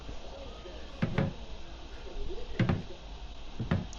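A kitchen cabinet door is clipped shut during a rangehood installation, giving three close, sharp knocks and clacks with short pauses between them and quiet room noise underneath.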